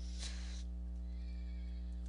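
A horse in the Minecraft Hexxit modpack gives a short, bright whinny at the start, faint and alone over a steady low hum.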